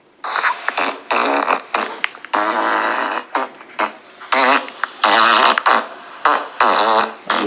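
A loud run of fart noises played back from a sent clip, one quick burst after another with short gaps, some stretched and buzzing, others short and sputtering, filling the whole stretch.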